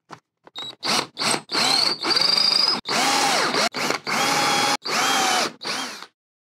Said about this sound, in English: I'll finish drilling the holes to depth